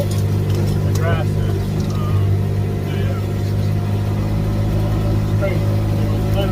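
Four-wheel drive vehicle climbing toward a Montana ranch property through tall grass, a steady loud low engine drone running throughout with a voice talking over it.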